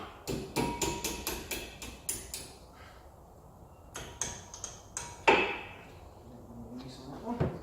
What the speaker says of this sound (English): Sometimes want a little bit of persuasion with the hammer.